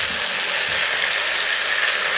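Pork sizzling and frying in a hot pan, a steady dense crackle that holds evenly throughout with no talk over it.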